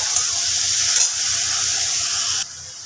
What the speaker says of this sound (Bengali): এইটাকে আবারও খুব ভালোভাবে নাড়াচাড়া করে এর সাথে মিশিয়ে নেব মশলাটা